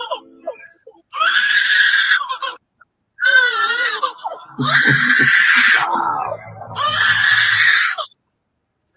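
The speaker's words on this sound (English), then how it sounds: "Listen to Lyrebird." Loud, harsh lyrebird calls in several long bursts with short gaps, shrill and wavering, some with lower honking tones mixed in.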